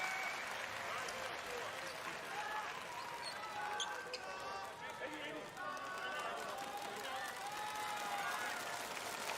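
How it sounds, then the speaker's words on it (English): Spectators at a Shibuya basketball game make noise during a free throw, a steady bed of crowd din with scattered claps and shouts, fairly distant and under a commentator's voice. "The Shibuya crowd trying to put him off the free throw"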